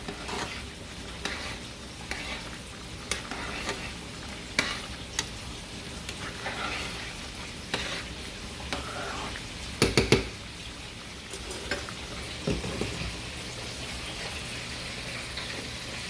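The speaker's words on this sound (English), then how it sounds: "Next, we're just gonna come back over here and stir the beans." A spoon stirs a pot of red beans as they cook, with soft scraping and a low bubbling simmer throughout, plus a couple of sharper knocks midway.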